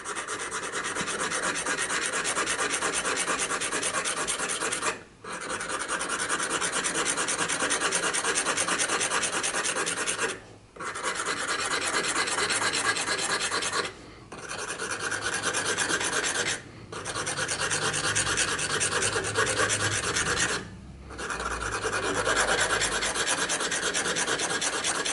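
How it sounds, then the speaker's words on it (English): Coarse Swiss pillar file rasping along a vulcanite pipe stem rod, steady close strokes in long runs broken by brief pauses, no talking. "This is the coarsest Swiss file you can get."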